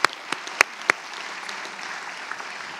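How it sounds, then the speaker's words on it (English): Applause at a graduate hooding ceremony, a few sharp loud claps up close at the start, then a softer wash of scattered clapping from the audience that trails off. "how about if we give a big round of applause to everyone who's helped you along the way to get here"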